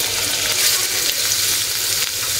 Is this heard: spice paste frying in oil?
yes